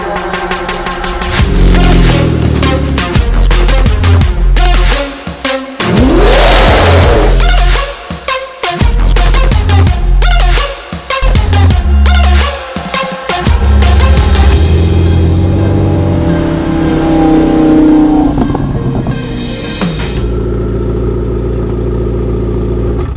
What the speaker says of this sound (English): You want to hear what a messed up differential is?